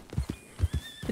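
A horse in the video game Red Dead Redemption 2 gives a short whinny amid several clip-clopping hoof thuds, close and moderately loud, with no speech.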